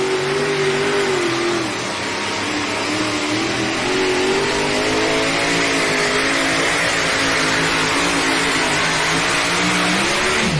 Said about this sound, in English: You know, Ron, I haven't heard them get on top of that motor yet this week in the way that one can really sing.